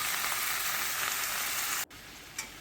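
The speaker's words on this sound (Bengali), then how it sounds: "একটু ভাজা ভাজা করবো অল্প সময়।" Mutton pieces and mutton fat frying together in a pan give a loud, steady hiss that cuts off sharply near the end, leaving only a faint quieter sizzle.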